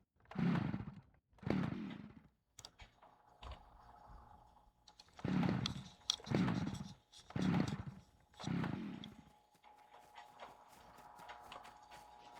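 A chainsaw in the SCUM video game struggles to start, with a string of pull-cord bursts that sputter and die in uneven bursts, followed by a faint rough idle trailing off.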